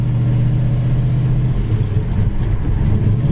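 A 1966 Chevy Chevelle Super Sport engine hums steadily while driving, a low droning rumble that shifts slightly in pitch around a gear change, with no talking.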